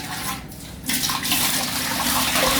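Hot water pours from a vessel into a container while making an Arabian sweet, a steady splashing gurgle that swells and grows fuller after a brief pause, close by with no talk.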